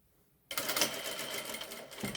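A sewing machine stitches fabric for a burrito-roll seam, starting abruptly after a short silence and then running as a steady, close, loud mechanical whir with no speech.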